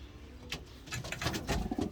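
Racing pigeons coo in a loft, several soft low throaty calls overlapping nearby, with faint rustling and shuffling among the birds.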